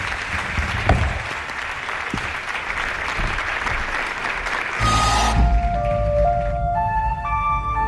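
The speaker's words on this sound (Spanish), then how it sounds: "Pido un aplauso para él." An audience applauds steadily for several seconds, dense clapping that is cut off midway as a tonal musical jingle with sustained notes takes over.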